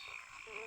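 Frogs croak in the video game Ahriman's Prophecy, a steady, continuous chorus that holds at an even level for well under a second.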